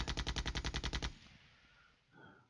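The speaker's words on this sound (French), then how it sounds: "la gazelle fait feu. Elle a détruit du BMP." A Gazelle helicopter firing in the Flashpoint Campaigns Cold War game sends out a rapid, evenly spaced burst of about ten loud automatic shots, cut off abruptly and followed by a faint rumbling tail.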